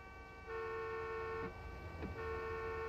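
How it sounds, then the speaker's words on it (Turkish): A car horn blares in a sustained toot that breaks twice before resuming, heard faintly against engine rumble in the Taxi Life city driving simulator video game. "Bak sürekli korna. Sürekli korna var oyunda."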